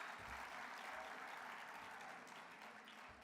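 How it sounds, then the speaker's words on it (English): Banquet audience applauding students at a national convention awards dinner, a dense continuous wash of clapping from a large crowd, fairly faint and distant, slowly tapering. "Give them a round of applause."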